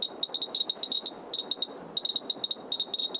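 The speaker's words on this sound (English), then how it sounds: "normal background radiation sounds like this" A Geiger counter responding to normal background radiation gives quiet, irregular bursts of short high beeping clicks, some clustered and some spaced apart, close and faint.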